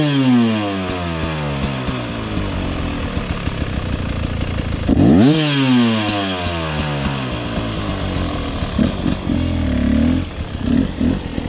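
A 2020 Beta 300RR Race Edition two-stroke dirt bike engine under riding load, loud and close, revving steadily with a sharp surge and drop midway, then climbing again with throttle blips toward the end, no talking.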